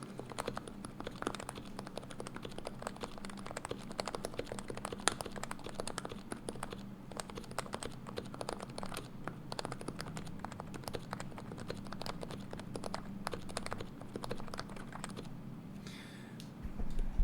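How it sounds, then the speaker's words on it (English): Fast, continuous typing test on a modded mechanical keyboard, dense stream of soft clacky keystrokes recorded up close at low level, steady rhythm throughout with a brief slowdown near the end. "let me bring the mic to the keyboard."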